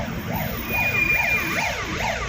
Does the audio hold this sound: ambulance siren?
yes